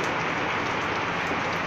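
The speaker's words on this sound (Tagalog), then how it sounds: "malakas ang ulan" Heavy typhoon rain pours steadily during Typhoon Ulysses in Pasig, a dense, unbroken hiss of close downpour heard alone with no talking.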